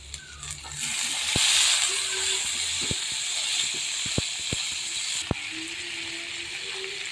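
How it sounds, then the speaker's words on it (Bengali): Pointed gourd and potatoes frying together in a pan, a steady sizzling hiss with occasional sharp clicks and clinks of utensils; a voice speaks faintly at times. "এখন আবার পটল আলু একসাথে করে ভেজে নিচ্ছি।"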